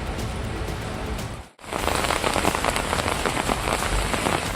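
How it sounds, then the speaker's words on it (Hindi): Heavy rain pouring down in Doda, Kashmir, a loud, dense, steady hiss of drops on surfaces, briefly cutting out before resuming at full strength. "डोडा में कई घंटे तक हुई जबरदस्त बारिश से नदी नाले उफान पर हैं"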